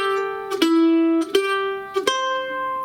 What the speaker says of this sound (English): So measures 3 and 4 sound like this.